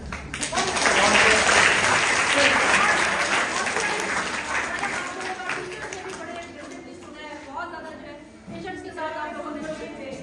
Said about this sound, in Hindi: अपने लिए तालियां